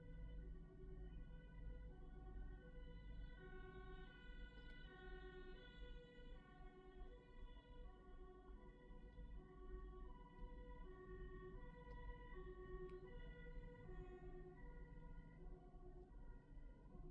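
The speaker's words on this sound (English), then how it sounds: "More sirens." Wailing emergency sirens rise and fall repeatedly in the distance over a low rumble of traffic, continuing throughout without pause.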